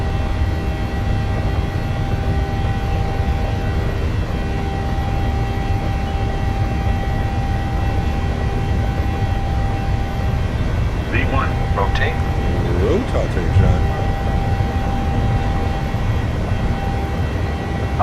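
Ryanair airliner engines spooling at takeoff power in Microsoft Flight Simulator, departing Leeds Bradford: a steady, continuous broadband roar held close and loud throughout, with brief higher tonal sweeps midway and voices talking over it.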